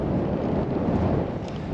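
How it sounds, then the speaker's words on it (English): Steady gusting wind buffets the microphone outdoors beside an RV, a low continuous roar with no voices. "It's very windy out right now"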